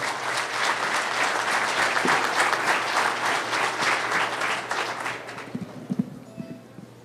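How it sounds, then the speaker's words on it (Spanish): A room full of people applauds to welcome a speaker at a panel on single police command hosted with the Jalisco State Human Rights Commission. Steady, loud clapping fills about five seconds, then fades to a few scattered claps and shuffling. "ruego a todos ustedes le otorguemos un gran aplauso para recibir su ponencia"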